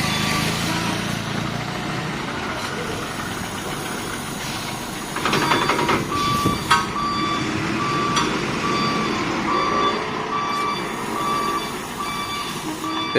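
A tourist bus turns around to the steady, repeated beeping of its reversing alarm, with engine rumble and hiss close by throughout and a busier burst of noise midway.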